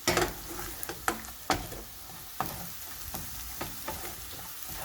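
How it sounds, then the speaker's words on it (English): Onions fry in a pan for kofta curry, a soft steady sizzle punctuated by several sharp spatula taps and stirring scrapes. "Now you can see onions have started coming together, getting cooked."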